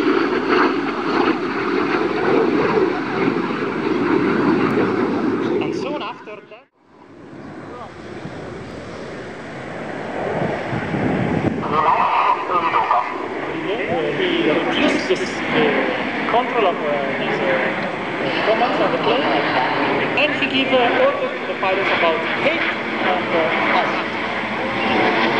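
An MB-339 jet performs a solo aerobatic display at the Radom air show, its engine roar loud and sustained with wind buffeting, a brief dropout midway, then rising again as an announcer talks over it.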